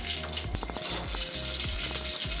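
Mustard seeds dropped into hot oil for a tempering, a bright crackling sizzle with repeated low knocks, close and steady.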